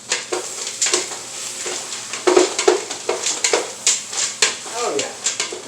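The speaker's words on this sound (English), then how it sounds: "Give it a good stir." A spoon scrapes and clatters around a pot of split pea soup with bacon, rhythmic stirring strokes over a faint sizzle, loud and close.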